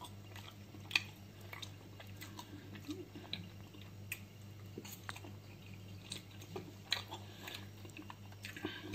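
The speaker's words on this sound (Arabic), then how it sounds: "ناكل حته كده مع البرنجان" Someone eating swordfish with eggplant and cheddar cheese, soft close chewing with faint moist squishes and small clicks over a quiet low hum.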